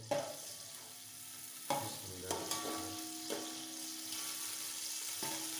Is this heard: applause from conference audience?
no